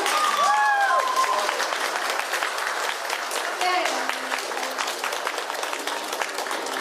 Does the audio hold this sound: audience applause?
yes